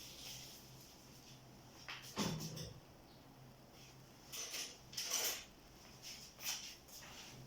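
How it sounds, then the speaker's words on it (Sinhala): A spoon works through spice paste for Arabic-style roast chicken, with cardamom powder, salt, saffron and olive oil, clinking and scraping faintly against a bowl in a few short, quiet bursts with no talking. "මේක හොඳින් කලවම් කරගන්නවා."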